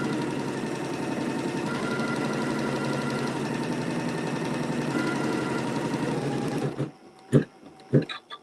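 A sewing machine stitches down an appliqué for a holiday table topper, running in a steady fast whir for about seven seconds before stopping, followed by a few soft clicks and handling sounds.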